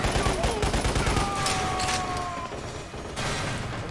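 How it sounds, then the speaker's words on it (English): Rapid automatic gunfire in the sci-fi shooter game Lost Planet, a dense, continuous rattling barrage close up and loud throughout, with a steady whine and a brief pause before the firing resumes; a voice speaks faintly underneath. "Something's shooting at me"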